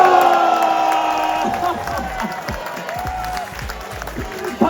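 Tournament audience cheering and applauding at a fishing competition weigh-in, a loud dense burst of clapping and shouts that gradually thins over a few seconds before a final swell.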